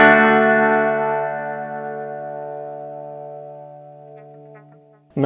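A single guitar chord strummed through an Xvive Echoman Mini analog delay with heavy modulation rings out and slowly fades with a wobbling shimmer, before a brief new attack at the very end.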